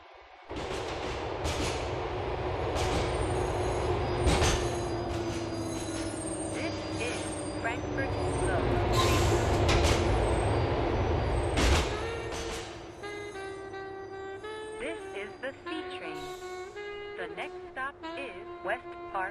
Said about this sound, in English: The train is approaching Frankfurt Low Station.